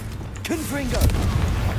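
A Confringo explosive spell blast in the video game Hogwarts Legacy, a booming impact with swooping tonal whooshes and a rising low rumble, with a brief vocal sound mixed in.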